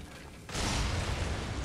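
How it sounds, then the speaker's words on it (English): Explosions in the Darksiders action game: a faint mechanical rumble suddenly bursts into a loud, sustained blast roar that carries on without any pause. "Oh, great. Explosions."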